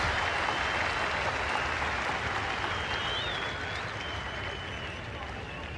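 Cricket crowd at Kingsmead in Durban applauding a record tenth-wicket partnership during a sunny 1995 Test against England, a steady wash of clapping and crowd noise that fades slightly toward the end.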